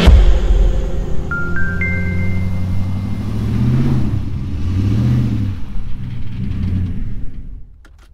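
Dodge Ram 1500 pickup crawling slowly off-road in four-wheel drive high range, a low steady engine rumble with gentle surges and faint creaks, close and moderately loud, fading near the end.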